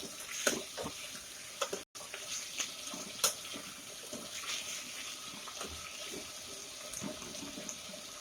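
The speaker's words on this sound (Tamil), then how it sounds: "இப்போ தக்காளியை வந்து நல்லா பேஸ்ட் ஆகிற அளவுக்கு நல்லா வதக்கிடணும் அந்த எண்ணெயிலேயே" Tomatoes sautéing in oil with rock salt give off a steady, moderately quiet sizzle, with scattered sharper crackles and a few spatula scrapes, and no talking.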